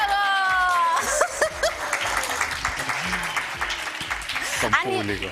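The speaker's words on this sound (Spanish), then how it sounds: "¡Aplauso para el kinesiólogo!" Studio audience applause for a physiotherapist guest on a morning TV show, a lively burst of clapping mixed with chuckles, voices and whoops, loud and close throughout.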